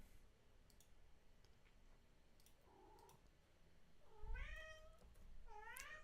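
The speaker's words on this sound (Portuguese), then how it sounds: "O gato tá querendo participar aqui." A house cat meows twice near the end, with rising, bright calls over faint computer keyboard and mouse clicking in a quiet room.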